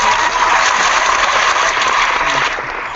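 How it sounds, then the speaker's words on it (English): Applause from a live session audience, dense and steady, loud and continuous for nearly three seconds before easing off slightly at the end, with no talk over it. "I totally interrupted you with that applause there"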